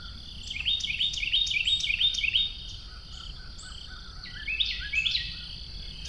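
Morning birdsong at a campsite along the C and O Canal, a bright warbling songbird repeating rapid trilling phrases, clear and fairly close over quiet outdoor ambience, pausing midway before singing again.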